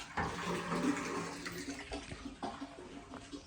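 Water flows from a hose into a farm tank, a quiet, steady gushing and splashing that carries on without pause and without any talk.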